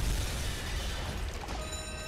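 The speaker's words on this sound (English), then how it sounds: "And we do have a nice explosion." A ship explodes after a torpedo hit in the submarine game Uboat, giving a steady, loud, rumbling roar of blast and debris noise with no talk over it.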